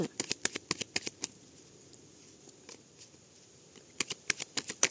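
A deck of tarot cards is shuffled by hand in quick riffling bursts, a rapid string of crisp card slaps at the start and again near the end, with a quiet stretch between.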